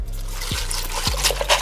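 Juice poured over ice in a cup while making a drink, a steady trickling liquid stream close up with a few brief clinks from the ice.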